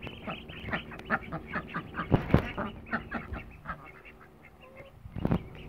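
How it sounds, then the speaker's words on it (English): Ducks and small ducklings quack in a lively, overlapping chorus of short calls, some close and loud, others softer, with a brief louder burst near the end; no speech. "The little ducklings are getting chased now and then."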